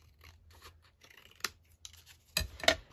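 Scissors trim paper for a handmade library pocket: a few crisp, close snips, sparse at first and then two louder cuts near the end, with a quiet background.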